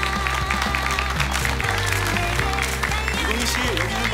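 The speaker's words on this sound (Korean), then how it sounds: "다시 한번 뜨거운 박수" An audience at an award ceremony claps with steady, dense applause for a prize winner. Voices talk over the clapping throughout.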